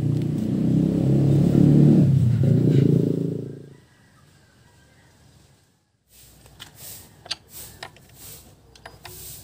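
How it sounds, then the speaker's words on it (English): A repaired outboard boat motor, fitted with a resistor between the CDI and exciter coil, runs loud and steady for about four seconds before cutting out, followed by quiet with scattered clicks and ticks. "We have a running engine."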